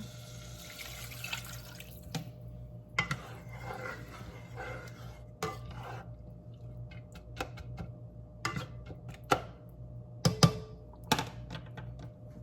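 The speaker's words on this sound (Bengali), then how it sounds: "তারপরে এই জলটা দিয়ে দেবো।" Water is poured into a pot of cooking lentils (dal) in a home kitchen, a soft splashing stream accompanied by scattered clinks and knocks of utensils, with no voices.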